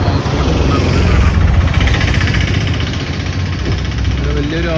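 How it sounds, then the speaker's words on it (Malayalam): A large houseboat cruises slowly past at Thanneermukkom bund on Vembanad Lake, its engine a steady, close low rumble and vibration throughout, with no pause in the drone. "ഇവിടെ വന്നപ്പോൾ ഹൗസ് ബോട്ട് പോകുന്നത് കാണാം."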